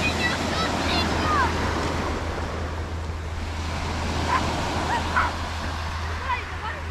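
Mediterranean sea waves roar and wash onto a beach at Alanya, Turkey, in January, alongside gusty wind, with a few brief voices or calls over the surf.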